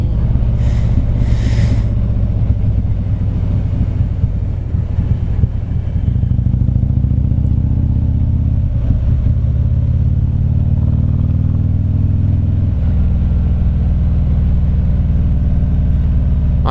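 Harley-Davidson Street Glide motorcycle riding down Macquarie Pass, a loud, steady low engine rumble with wind noise throughout, shifting in pitch as the rider changes speed.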